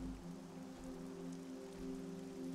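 Steady rain in the video game Castlevania: Lords of Shadow, a continuous even hiss over a low droning background tone, with no voices.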